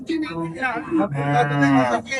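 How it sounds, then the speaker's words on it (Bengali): A native Bangladeshi cow at a cattle market in Tangail gives two close, loud, drawn-out moos, the second longer and rising, with little else around. "এই পাশে দেখেন একটি বিশাল সিং আলা একটি দেশি গাবি গরু"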